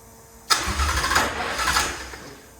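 A Mercedes with a flat-plane V8 cranks with a sharp onset, churning and sputtering for about two seconds without catching, its coil harness on the wrong side, then fading out.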